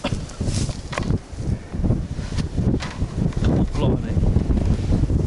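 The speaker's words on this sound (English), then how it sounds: "It's windy as well." Strong wind buffets the microphone in steady, rumbling gusts outdoors at a historic site in Dover, loud and continuous throughout with no clear voices.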